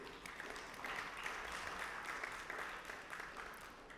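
Audience applause fills a CEO summit hall in Karachi, a steady, even wash of clapping from many hands that holds at moderate level throughout without letting up.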